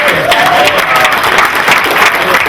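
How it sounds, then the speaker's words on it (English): A forum crowd in Washington, DC, at a Pan-African revival event, applauds loudly in a dense, continuous wash of clapping that holds at an even level throughout. "give a round of applause"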